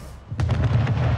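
Ship cannons fire during an Anno 1800 naval battle against pirates, a deep booming volley of rapid blasts stacked over a low rumbling battle bed, close and loud.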